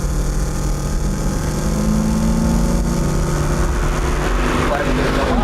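A 1971 Alfa Romeo Montreal's engine pulls hard under acceleration, its rising harmonic tone loud and steady throughout with a dense, continuous roar and no pauses.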